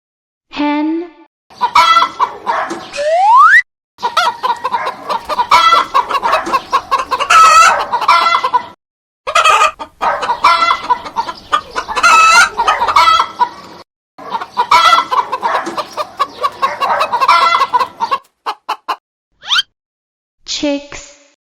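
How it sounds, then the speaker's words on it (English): A hen clucks steadily at close range in a loud run of short, choppy calls, broken by brief pauses, with a crowing phrase near the start. "Hen."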